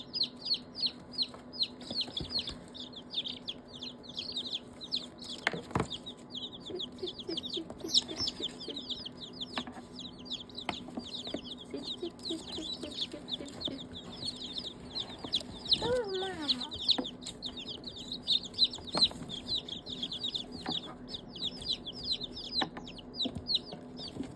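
Many tiny chicks peep constantly in high, rapid chirps, a busy chorus with occasional louder clucks and brief knocks, no talking.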